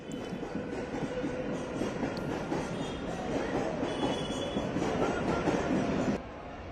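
A train runs through Dadar railway station in Mumbai with a continuous rumble of wheels on rails, faint squeals and rattling carriages, loud and close throughout before easing off at the end.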